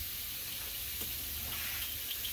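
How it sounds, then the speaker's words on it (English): Steady, dense sizzling hiss of venison, bear or moose meat frying in a hot pan, continuous and fairly quiet, with faint crackles. "You can hear the sizzle."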